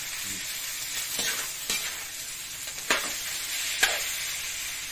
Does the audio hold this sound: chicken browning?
yes